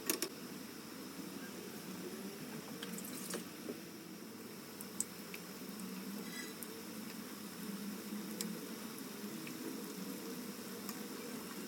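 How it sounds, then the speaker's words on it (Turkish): Köfte patties fry in hot oil in a pan with a soft, steady crackle and sizzle that stays fairly quiet and even throughout, with a few sharper pops, and no one speaks. "Gördüğünüz gibi arkadaşlar çok güzel kızarıyor."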